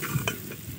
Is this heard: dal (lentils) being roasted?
yes